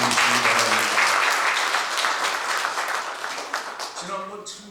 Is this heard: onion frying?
no